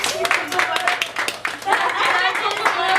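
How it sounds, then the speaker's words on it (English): Audience at a student cooking competition claps in a scattered, uneven burst, with talk and chuckles mixed in throughout. "Let's give them a round of applause."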